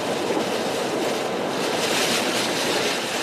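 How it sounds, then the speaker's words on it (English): Hurricane Ian's sustained winds near 80 mph give a dense, unbroken roar of wind noise across the whole clip, loud and steady like heavy surf, with no voices. "Just your casual 80 mile an hour sustained wind"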